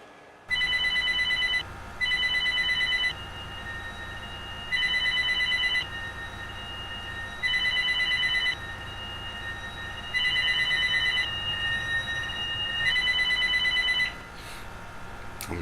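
A telephone rings in a repeating pattern of electronic bursts with short gaps between them, loud and close, continuing several times before it goes to voicemail.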